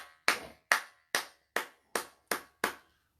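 At a prophetic church service, applause for the Lord comes as seven sharp, evenly spaced hand claps, close and crisp, ringing briefly against otherwise silent air.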